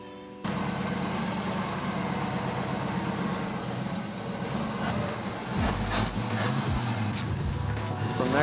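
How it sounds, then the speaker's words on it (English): A 1966 Chevy C10 with a 283 V8 fires up and keeps running, settling into a loud, steady rumbling idle close by that roughens and surges slightly near the end. "I'm gonna go fire it up with some brake fluid or brake clean in the carburetor"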